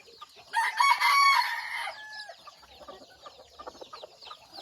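Red junglefowl about three months old crowing in a loud burst early on, followed by softer clucking and scattered bird calls with rustling in an outdoor setting.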